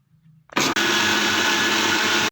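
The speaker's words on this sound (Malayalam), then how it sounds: "ഇനി ഇത് മിക്സിയിൽ അടിച്ചെടുക്കാം." A mixer grinder whirs into a loud, steady blending roar as it churns ginger, green chili, curry leaves, lime juice and cold water. A brief stutter comes just after it starts, then the roar holds level until it cuts off abruptly.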